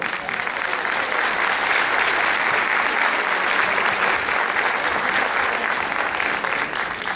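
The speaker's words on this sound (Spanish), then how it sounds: "El aplauso para esa gente también, por favor." Sustained applause from a large audience at a school education event in a hall, dense and even clapping at steady volume throughout, with faint voices underneath.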